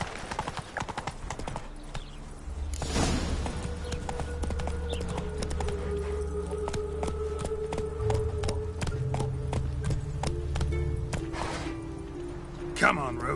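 Horse hooves clip-clop steadily in The Witcher 3 game, a continuous rhythmic trot under music and ambient game sound, with a voice speaking over it.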